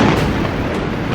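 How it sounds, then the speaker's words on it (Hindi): A bunker buster bomb explosion, a loud, deep, sustained rumbling blast that fills the whole short moment without any pause. "इनसे ऐसा धमाका होता है जिसकी वजह से इन्हें बंकर बस्टर बम कहा जाता है।"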